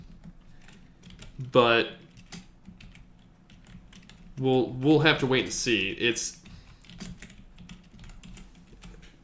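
Quick bursts of clattering computer keyboard typing are heard close by, mixed with a person talking in a casual podcast conversation.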